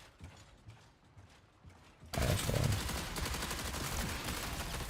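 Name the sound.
gunfire in The Finals video game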